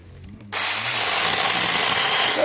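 A saw starts up abruptly and runs steadily at close range while cutting tree branches for firewood, likely a newly bought saw meant for trimming a walnut tree, its loud continuous whine filling the rest of the clip.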